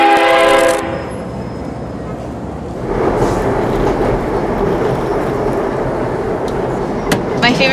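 Via Rail Canada passenger train heard in steady, continuous rumble, starting with a loud horn-like tone that gives way to sustained rolling noise and a brief sharp clank near the end.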